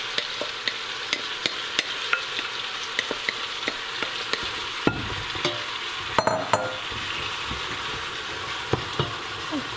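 Cauliflower pieces with tomato added on top sizzle steadily in a frying pan, with sharp clicks and scrapes of stirring scattered throughout and a brief louder clatter near the middle.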